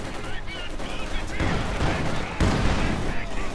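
Field guns firing in Company of Heroes 2 during a 2v2 match, dense overlapping blasts and rattling shots in rapid bursts, with heavier impacts near the middle and end.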